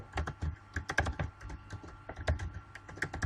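Rapid, uneven clatter of keys on a computer keyboard as Arduino code for switching a 5V relay is typed, close and fairly loud, with short bursts and brief pauses and no talking.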